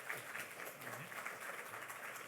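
Church congregation applauds a new-member graduation at a Sunday service, a soft, steady patter of many hands heard faint and somewhat distant throughout.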